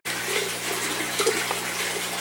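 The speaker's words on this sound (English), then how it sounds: "Getting some pump. Got some water coming through there." Water runs steadily through a small pump in a homemade water-bottle miniponic garden, a continuous close trickling rush that persists throughout without pause.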